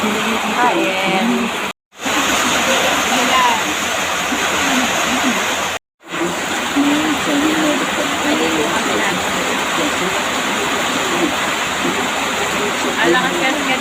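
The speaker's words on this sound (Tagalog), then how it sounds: "Tapos ulan na naman." Steady heavy rain pours with a dense, constant hiss, briefly cut off twice, while people talk faintly underneath in Filipino.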